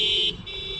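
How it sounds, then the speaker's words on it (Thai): Car horns honking at a roadside anti-government protest in Thailand, a loud sustained blare from one horn that drops and continues at a slightly different pitch, close by and brief. "ก็บีบแตรกันร่วมกิจกรรมกันอย่างพร้อมเพียงนะครับหลายคัน"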